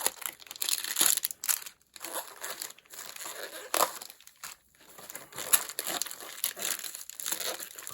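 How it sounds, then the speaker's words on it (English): Packaging for nail gel products is pulled open up close, giving crinkling plastic, crackling and crushing noises in uneven bursts with short quiet gaps. "I'll get these open and we'll see what I've got"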